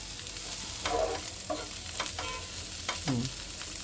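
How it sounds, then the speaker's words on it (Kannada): Food frying in a pan with sesame, a steady close sizzle broken by several scraping stirs of a spoon, no voices. "ಇನ್ನೊಂದು ಸ್ವಲ್ಪ ಫ್ರೈ ಮಾಡ್ಕೊಳ್ಳೋಣ"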